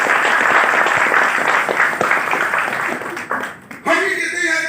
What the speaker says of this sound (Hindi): दोस्तों एक बार जोरदार तालियां आप सभी लोगों को।